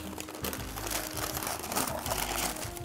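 Paper crumpled by hand in a kitchen while a flan is being made. The close, continuous rustle is full of sharp crinkles and crackles.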